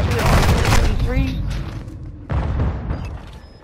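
Heavy explosions and bursts of gunfire in the video game Modern Warfare 2, a loud booming barrage followed by a second blast a couple of seconds later, close and dense, with a voice talking over it.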